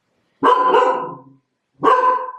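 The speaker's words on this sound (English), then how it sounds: "So Nola's barking at something." A dog barks twice nearby, loud and sharp, with a short pause between the barks and no one talking.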